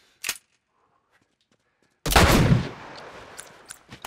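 Gunfire in The Last of Us video game: one sharp shot, about two seconds of near silence, then a louder blast with a long decaying echo and a few scattered softer cracks after.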